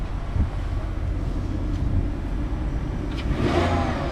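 A Volkswagen Beetle Turbo S bought at auction idles with a steady low rumble, its engine swelling in a rev near the end, recorded outdoors with wind buffeting the microphone.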